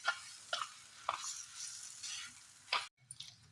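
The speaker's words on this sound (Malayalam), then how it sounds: "ഉരുളക്കിഴങ്ങ് ഇനി നന്നായിട്ട് മിക്സ് ചെയ്യണം" Potato masala filling for dosa being stirred in a pan, soft scraping strokes with faint sizzling, a few sharp spoon taps against the vessel, quiet and close.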